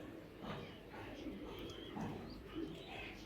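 Racing pigeons, including a young female, give soft, low cooing calls several times, quiet and close, with faint chirps and a person talking in the background.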